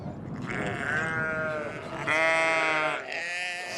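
Flock of sheep on a remote Scottish farm, several close, loud bleats one after another, overlapping and wavering, with a rustling outdoor background.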